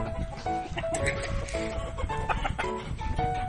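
Gamefowl roosters and stags on a farm, clucking and short calls overlapping from several birds at moderate distance, steady and busy throughout.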